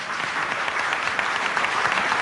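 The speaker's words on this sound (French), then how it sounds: "La lettre de Du Bois, bruyamment applaudie par une large partie de l'assistance" A large audience claps loudly and continuously in a dense, steady wash of applause for a letter by Du Bois, close and unbroken throughout.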